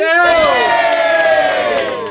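A studio audience at a radio session for a band cheers and whoops loudly, a sustained burst of high shouting voices close up that fades slightly toward the end.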